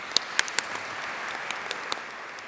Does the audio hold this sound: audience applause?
yes